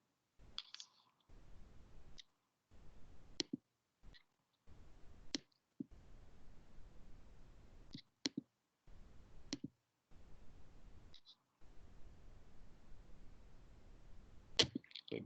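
A computer mouse gives a handful of quiet, sharp single clicks spaced a few seconds apart over faint background hiss.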